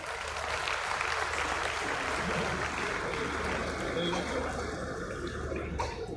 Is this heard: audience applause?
yes